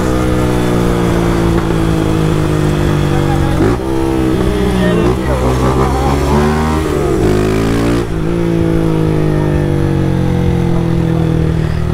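A Honda Start 160 motorcycle fitted with a sport exhaust revs loudly nearby, its engine climbing and dropping in repeated throttle blips over a steady rumbling idle.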